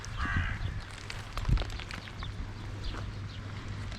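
Crows cawing at a backyard bird feeding spot on a rainy day, a few short harsh calls at moderate distance over steady rain and background hiss, with a faint thud midway.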